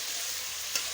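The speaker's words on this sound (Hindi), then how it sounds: "1 मिनट तक हम इसको ऐसे ही फ्राई करेंगे, ताकि लहसुन का अच्छा सा फ्लेवर आना चाहिए इसमें।" Chopped garlic and ginger frying in a pan, a steady close sizzle with a soft stir or clink near the end, lasting one second.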